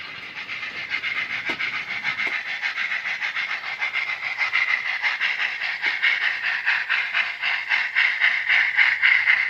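Live-steam model locomotive running on a layout, giving a rapid rhythmic chuffing hiss that steadily grows louder and quicker, close and alone.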